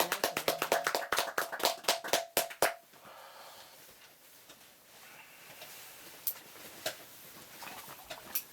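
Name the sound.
audience applause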